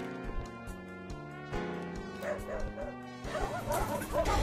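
Guard dogs bark in the video game Awkward Dimensions Redux: a run of repeated yapping barks over a steady tonal game backdrop, fairly loud and close, with no talking.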